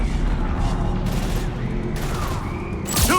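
Heavy gunfire from a Mass Effect 3 battle, dense sustained bursts with a continuous rumble and a loud crack near the end, mixed with game effects.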